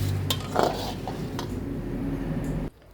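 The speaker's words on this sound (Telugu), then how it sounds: "లాస్ట్లో కరివేపాకు వేయించుకుంటున్నాను" Dried curry leaves frying in a pan, a quiet sizzle with a few scrapes and clinks of a spoon, ending abruptly into near silence.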